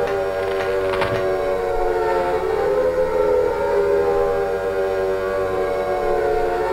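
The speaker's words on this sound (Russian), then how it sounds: "Вы слышите сирены?" A siren in the Silent Hill video game wails loudly and continuously, a rising and falling civil-defense tone that fills the whole stretch, with a brief sharp clatter near the start and no voices.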